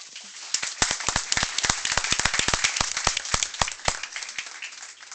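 Audience at a Michigan Public Service Commission meeting applauding, a room of scattered individual claps building into a steady, moderately loud round of applause.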